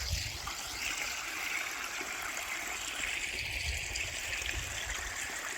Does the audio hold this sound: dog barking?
no